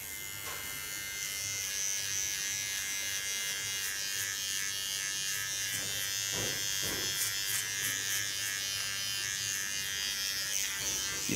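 A large electric hair clipper buzzes steadily while cutting hair for an asymmetric bob in a salon, a continuous close, even hum with small shifts in pitch as it moves through the hair.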